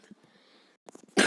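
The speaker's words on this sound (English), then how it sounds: "Don't worry, just some cough." A single sharp, close cough bursts out at the end, after a second of faint breathy throat sounds and quiet.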